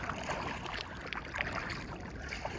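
A kayak paddled across flat water in a mountain valley, its blade strokes giving soft, steady splashes and a constant watery wash, close by, with no voices.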